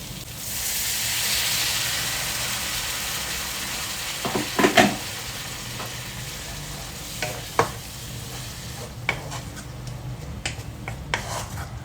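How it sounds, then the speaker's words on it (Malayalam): Chopped tomatoes sizzle in a pan while being stirred for a prawn roast, a steady soft frying hiss broken by a few sharp scraping clicks of the spoon, close and without speech. "അരിഞ്ഞു വെച്ചിട്ടുള്ള തക്കാളി ഇതിലോട്ട് ചേർക്കുക ഒന്ന് ഇളക്കി യോജിപ്പിച്ചതിന് ശേഷം കുറച്ച് തിളച്ച വെള്ളം ഒഴിച്ചു കൊടുത്ത് ഒന്ന് വേവിച്ചെടുക്കാം"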